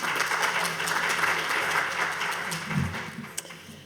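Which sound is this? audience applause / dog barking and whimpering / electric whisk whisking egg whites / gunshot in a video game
audience applause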